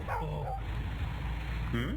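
Dog barking in the video game Whack The Burglars, a couple of brief yips at the start and end over a steady game background hum.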